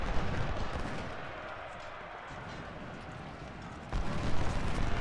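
Musket volleys rattle across a battlefield in Ultimate General: Civil War, a dense, continuous crackle of gunfire with rumbling battle noise that swells into a louder burst near the end.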